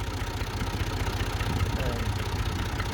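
A farm tractor's engine runs steadily during a driving lesson, giving a continuous low throbbing rumble at a near, constant level with no clear speech over it.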